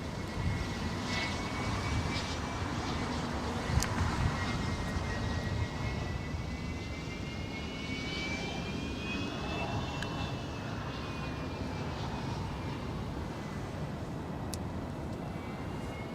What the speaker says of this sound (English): we got an exec jet coming in